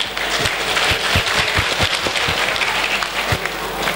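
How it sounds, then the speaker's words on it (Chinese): Banquet audience at a restaurant dinner event applauding, a steady dense wash of many hands clapping throughout, loud and sustained with no talk. "请大家给我们一个掌声"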